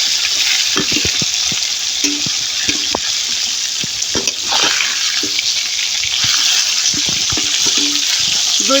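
Spices sizzling and frying in a pan, a loud continuous crackle with scattered stirring scrapes and taps from a utensil.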